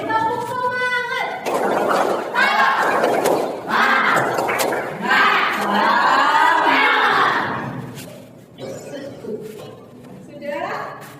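A group repeating a spirit clap chant, loud rhythmic shouting and clapping at close range, then quieter chuckles and a few thumps as it winds down.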